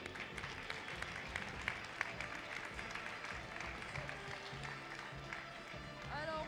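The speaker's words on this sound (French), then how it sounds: "on peut l'applaudir" An audience claps for the winner of a Wild West sheriff game at a comic-making event, a dense, steady round of applause from a small crowd that holds through the whole stretch, with a few voices mixed in.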